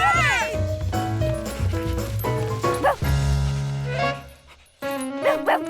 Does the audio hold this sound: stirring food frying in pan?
no